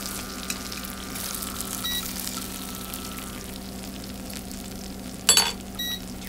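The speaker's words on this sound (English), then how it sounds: "I don't really want to fry the chili." Chili frying in a pan gives a steady, soft sizzle that runs throughout, with a few brief clinks and scrapes near the end and no talking.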